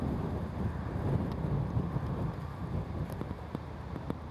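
Steady wind buffeting an outdoor microphone at a disc golf championship, a loud low rumble that blows continuously for the whole stretch with a few faint ticks on top.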